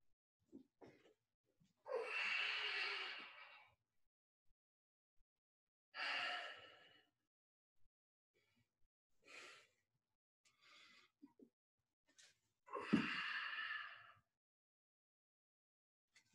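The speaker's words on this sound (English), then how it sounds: "notice my breathing. I'll try to exaggerate it" Exaggerated breathing during a bent press strength exercise: several loud, drawn-out breaths and sighing exhales spaced seconds apart, close and clear, with small clicks and shuffles in the quiet gaps between them.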